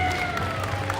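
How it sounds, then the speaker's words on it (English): Audience clapping at a Comicpalooza convention panel, a steady wash of applause lasting about a second over a low, humming room tone with a faint tonal drone. "Everyone clap for him. Clap for Bob."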